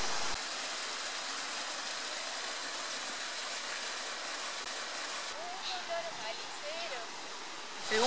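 Water runs steadily along a side channel beside an old railway tunnel at La Merced, heading down toward a mountain stream, a constant rushing flow with a brief voice late on.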